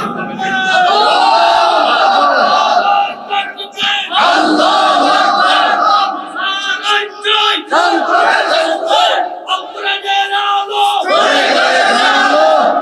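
A crowd shouts slogans in loud, repeated collective bursts at a Bangla waz sermon, with brief pauses between the roaring chants.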